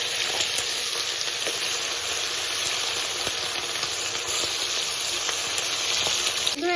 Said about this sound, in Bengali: তো প্রথমে মাছগুলো আমি ভেজে নেব।